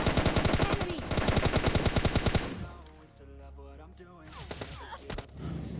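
Rapid bursts of automatic gunfire in the mobile shooter PUBG Mobile Lite, loud and steady for about two seconds. Quieter, more distant game sounds follow.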